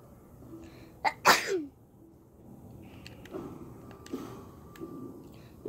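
One sharp, loud sneeze bursts out close to the microphone, followed by quiet, faint background clicks and small sounds from playing a game.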